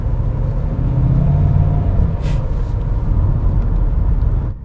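A Mercedes S500 W140 on the road gives a steady, smooth low engine and road rumble from inside the cabin, constant and fairly loud throughout with no speech.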